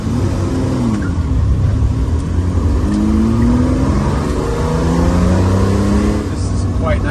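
A 1968 Ferrari 330 GTC vintage sports car driven on an open road, its engine droning loudly and continuously from a passenger's seat, with pitch rising and falling through gear changes and wind and road noise layered beneath.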